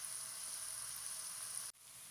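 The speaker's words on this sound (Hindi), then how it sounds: "मीडियम फ्लेम पे इनको नरम होने तक हम फ्राई कर लेंगे ताकि टमाटर जो हैं वो भी अच्छी तरह से सॉफ्ट हो जाएं" Tomatoes and chillies fry in a pan over a medium flame with a steady, even hiss that holds constant, then briefly cuts out and resumes.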